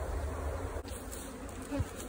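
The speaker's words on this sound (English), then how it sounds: "There's a ton of bees" Honey bees buzz thickly around a newly split beehive early in the honey flow, a steady, close, continuous hum with no voices over it.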